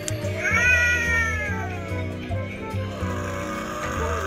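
A cat meows in a video game, one long rising, drawn-out wail near and loud over a steady, pulsing game music loop.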